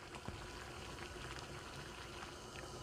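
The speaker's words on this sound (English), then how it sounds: "This carrot should put in boiling water for 30 seconds." A pot of boiling water bubbles steadily as a carrot is blanched, a close, continuous rolling simmer with small pops and no talk.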